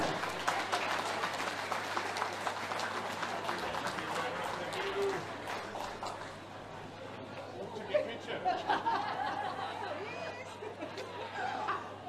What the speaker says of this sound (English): a massive round of applause for your Welsh Classic finalist